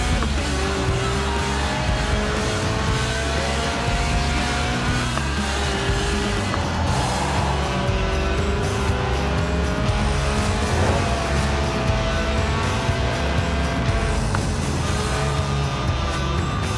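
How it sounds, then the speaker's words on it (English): Lotus Elise Sport 190, a stripped-out mid-engine rear-drive roadster tuned for track days, driving in Forza Horizon 4: a steady, loud engine drone with shifting harmonics and occasional tire squeal throughout, no voices. "Right then, the Lotus Elise, a 90s classic based on the age-old Roadster recipe"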